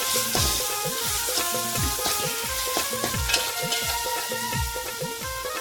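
Garlic and ginger paste frying in oil for an Agari-style crab curry, a steady bright sizzle with tonal background music over it throughout.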